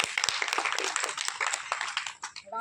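An audience clapping at a block-level agricultural training workshop, with fairly close, crisp claps in an uneven but continuous patter that eases slightly toward the end.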